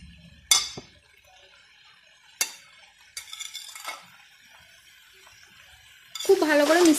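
A spoon scrapes and clinks several times in a frying pan of cabbage with radish and carrot, the separate strokes spaced apart, then a loud, steady sizzle rises at the end.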